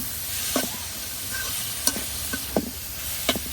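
Bitter gourd and green chilies being stirred into fried masala in a pan: a steady close sizzle broken by several sharp spatula scrapes and knocks at irregular intervals.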